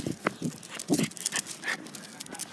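A dog out on a walk, heard close with brief snuffs, whines and movement noises in quick bursts, faint and uneven.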